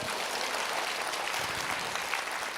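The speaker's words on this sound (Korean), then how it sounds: "박수를 지금은 세게 치시길 바랍니다." A church congregation at a prayer retreat claps steadily and loudly together, a dense, continuous patter of many hands with no speech over it.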